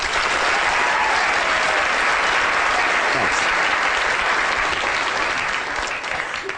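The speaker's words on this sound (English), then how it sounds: "So big round of applause for row E." A lecture audience applauds in a sustained, loud wave of clapping that fills the room, tapering slightly toward the end.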